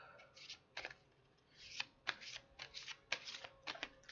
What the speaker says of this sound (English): I'll shuffle these cards up.